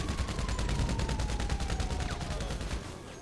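Police open fire in Grand Theft Auto V with a rapid, sustained burst of automatic gunfire. The shots form a dense, steady rattle that stops abruptly near the end.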